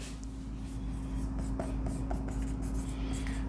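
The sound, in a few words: writing on a board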